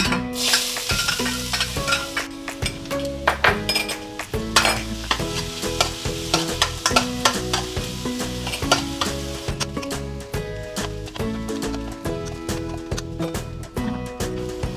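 Garlic is stir-fried with fried egg tofu in a hot pan for salt and chilli tofu, loud sizzling under rapid repeated scraping and clacking of a spatula, close and continuous.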